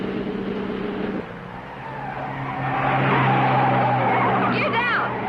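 A sports car is pushed hard around a race track, its engine droning loudly and then rising, with tires squealing and skidding near the end.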